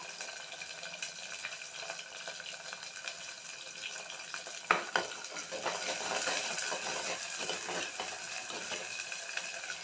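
Onions sautéing in a clay pot give a soft, steady sizzle with a sharp clink partway through, followed by busier stirring and louder frying noise.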